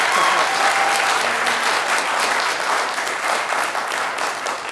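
Steady applause from an audience at a Temecula city council meeting, dense, continuous clapping filling the room without a break, loud and close, with faint voices beneath.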